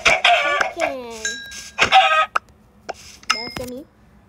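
Minecraft chicken clucks in loud, close bursts with rising squawk-like calls, a few repeated calls over a couple of seconds, then a quieter pause and another short burst.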